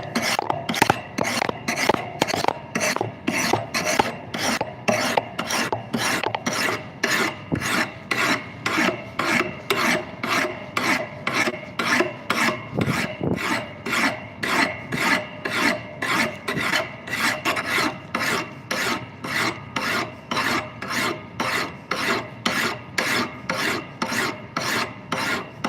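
A file rasping back a small bevel in a shop, strokes repeating steadily and evenly, close and fairly loud, with no talking.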